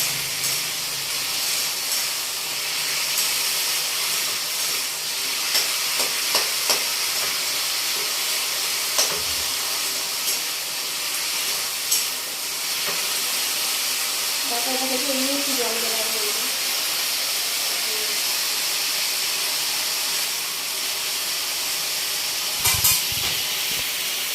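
A steady, even sizzling hiss of potatoes and tomato frying in a pan runs through the whole stretch, with a few faint clicks and soft background sounds.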